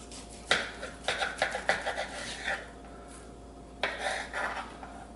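A knife slices through a New York strip steak on a cutting board, giving a few quiet, scraping strokes in a short run, then a pause, then another brief set of cuts.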